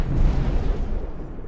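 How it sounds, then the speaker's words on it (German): A deep, rumbling video-game explosion in Star Citizen during an attack on an outpost, with a dense low-end boom that rolls on and slowly fades, loud and close. "Alter, krass, was explodiert denn da?"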